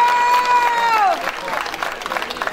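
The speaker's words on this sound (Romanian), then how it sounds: "Haideți să-i aplaudăm." Audience applause at a judo club presentation, a burst of clapping that follows a brief ringing tone and continues as a dense, moderately loud patter through the rest of the moment.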